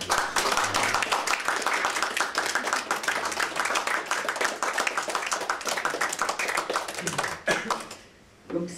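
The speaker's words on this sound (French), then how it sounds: "Je vous demande d'applaudir Stéphane." An audience applauds Stéphane at a poetry event, a dense, steady round of clapping from many hands that holds for several seconds before tapering off at the end.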